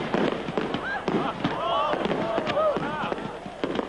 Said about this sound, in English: the family watched a fireworks display in celebration of her inauguration